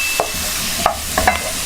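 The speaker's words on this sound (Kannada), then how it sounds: "ಇದನ್ನು ಲೋ ಫ್ಲೇಮಲ್ಲೇ ಮಿಕ್ಸ್ ಮಾಡಿಕೊಳ್ಳಿ." Butter garlic chicken stirred in a pan over a low flame: a few scraping strokes of a spoon against the pan over a soft sizzle, close and clear with no talk.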